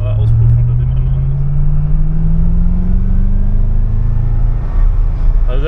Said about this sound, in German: Ein anderer Auspuff unter dem anderen.